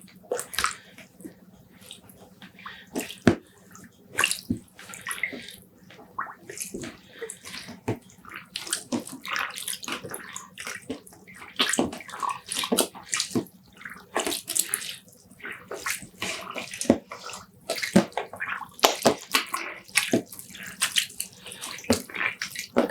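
Tweed yarn is pressed down and tucked into a basin of water to soak for dyeing, giving irregular close splashes, sloshes and drips with quiet gaps between.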